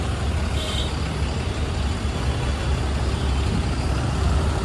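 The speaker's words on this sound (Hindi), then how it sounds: "बहुत ही चक्का जाम है" Dense, steady rumble of heavy road traffic in a jam, with trucks and buses idling and crawling close by, a continuous loud low drone that never lets up, no voices.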